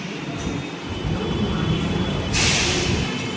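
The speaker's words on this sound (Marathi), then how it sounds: "आपले मेट्रो आलेले आहे." Maha Metro train pulling into a station in Nagpur, a steady rumbling roar with a sharp hiss of air bursting out near the end.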